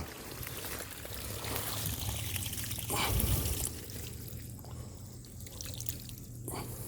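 Water gushes steadily from a drip irrigation pipe pulled loose in a coconut grove, a continuous trickling and splashing flow close by with a louder surge midway, with no voices.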